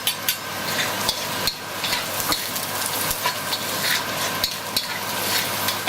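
Garlic and ginger stir-fried with browned onions in a hot pan for hoisin beef, a close continuous sizzle punctuated by regular sharp knocks and scrapes of a utensil against the pan, with no voices.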